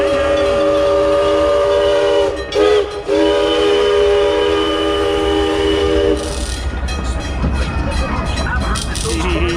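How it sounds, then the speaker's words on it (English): A train rolls past at an amusement park during a Halloween night event, with a loud, steady rumble and a brief horn-like tone partway through, while people talk nearby. "See the train come by? Here it comes."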